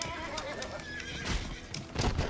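A horse in the Western video game GUN whinnies amid clip-clopping hooves and busy game ambience, with short bright bursts over a steady mid-level background and no talk.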